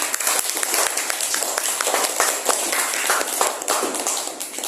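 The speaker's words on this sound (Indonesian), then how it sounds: "tepuk tangan untuk kelompok 4" A class of schoolchildren claps for group 4 after their presentation, a dense, steady patter of many small hands filling the room, with a few sharper individual claps standing out.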